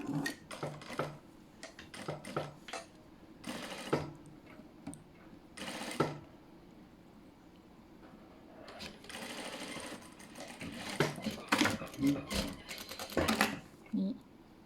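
A sewing machine stitches a gathered, bound sleeve cuff in short intermittent bursts of rapid clattering, with pauses between runs and a voice talking at times.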